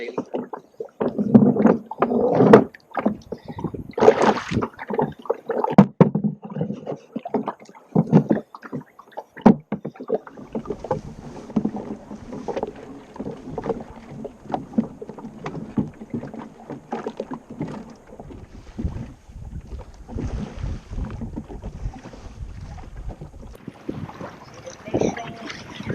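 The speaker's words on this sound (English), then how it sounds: "Almost always it's better to keep rowing." Oars work a small sailing boat through the water, with uneven splashing strokes and creaks close by, wind buffeting the microphone and a voice talking over parts of it.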